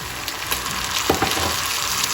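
Minced meat sizzles in a pan with onion, garlic, tomato and peppers, a steady bright crackle close by, with a couple of stirring scrapes partway through.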